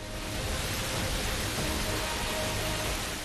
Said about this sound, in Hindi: नदी की प्रवाह की आवाज आप सुन सकते हैं।